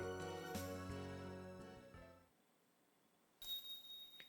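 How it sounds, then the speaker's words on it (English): Bell ringing in the visual novel Never 7, a faint, clear chime that rings out and slowly decays over about two seconds, followed by near silence and then a second, brighter ding. "As I hear the faint sound of the bell Yuka threw away"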